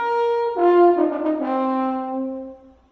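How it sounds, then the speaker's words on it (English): Solo French horn playing a short, familiar theme melody, its warm round brass notes sustained and moving stepwise before fading out, with no voices. "And that is the French horn."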